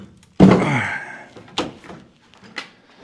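A door on a 1941 Chevy gives one solid, loud thunk near the microphone. Two lighter knocks follow at a distance, and there is some faint background talk.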